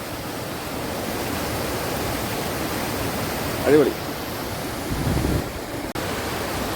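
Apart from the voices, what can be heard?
water flowing in a small stream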